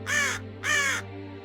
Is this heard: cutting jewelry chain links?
no